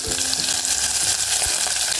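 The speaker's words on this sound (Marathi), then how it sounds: "उभा चिरलेला कांदा घ्यायचा आहे तो फोडणीत घालायचा आहे" Sliced onion frying in hot oil tempering for Dalimbi Bhat, a loud, dense, steady sizzle that stays the same the whole time.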